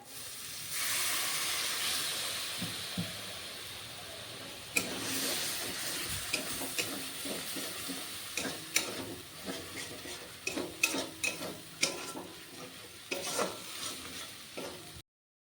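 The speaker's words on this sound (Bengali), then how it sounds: "এখন এখানে একটু জল দিয়ে ভালো করে মশলাটা কষিয়ে নেব" Spice masala of cumin and turmeric powder stirred with a splash of water in a hot pan, a steady hiss and sizzle with frequent scraping ticks of the spoon, close and continuous, with no talking.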